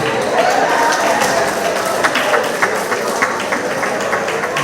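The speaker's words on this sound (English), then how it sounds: "give Hazel another round of applause" A crowd of retired persons at a Trinidad and Tobago association meeting claps steadily for several seconds, a dense, fairly loud patter of hands with no pauses.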